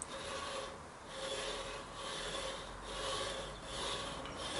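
A skew chisel cutting wood on a lathe gives a steady, soft rasping scrape that swells and fades in slow, even waves, quiet and without voices.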